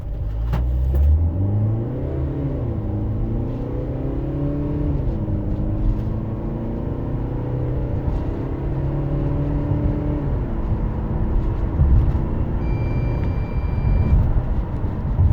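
A VW California 6.1 Ocean camper van with a 204 hp 2.0 TDI diesel, 4MOTION and DSG gearbox accelerates hard from a standstill to 100 km/h. The engine climbs steadily through several gear changes, loud and close with a constant rumble.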